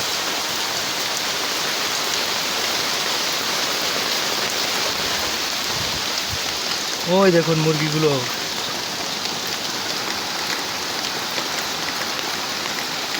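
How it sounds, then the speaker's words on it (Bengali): Heavy rain pours steadily in a continuous broad hiss over a flooded village yard with a chicken coop, and someone speaks briefly partway through. "দেখুন বৃষ্টিটা দেখানোর চেষ্টা করছি"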